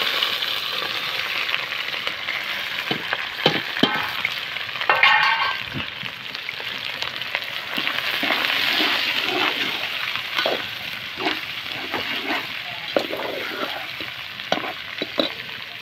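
Chicken fries in a pan with garam masala, bay leaf and chili over a wood-fired stove, giving a steady close sizzle with frequent clinks and scrapes of stirring running through it.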